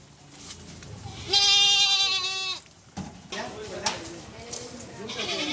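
A goat lets out one long, loud, wavering bleat close by, followed by more rough bleats and general commotion as goats are handed out at a livestock distribution event.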